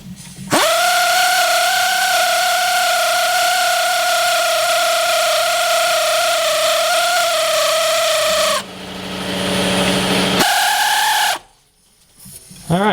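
Air ratchet with a socket whirring steadily for several seconds while tightening the alternator belt on a Jeep 4.0L straight six, then a second shorter burst after a brief pause, loud and close.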